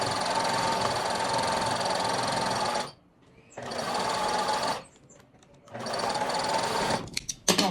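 A sewing machine stitches fabric and elastic on a clothing set, three loud, steady runs of rapid mechanical whirring broken by short pauses, close up.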